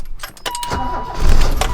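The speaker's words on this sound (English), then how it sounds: "We can start the car, but the clutch has to be in because it's stuck in third." A 1985 BMW car engine, stuck in third gear with the clutch held in, cranks and catches in a garage, the sound swelling into a loud, close rumble near the end, with faint jingling early on.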